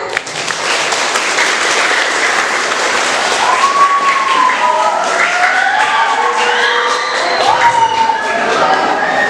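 A school audience at a junior high student council candidates' debate bursts into loud applause and cheering, with children shouting and whooping throughout, dense and sustained for the whole stretch.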